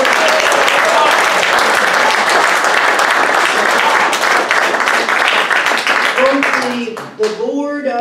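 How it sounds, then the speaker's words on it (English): Sustained audience applause at a Space for Peace conference in Huntsville, Alabama, dense steady clapping filling most of the stretch before thinning out, with a voice and a few tones emerging near the end. "let's first give a great round of applause to all the organizers"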